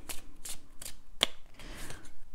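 Tarot cards are shuffled and drawn by hand, a few quick papery riffles and slaps in a quiet room, close and soft, with no talk.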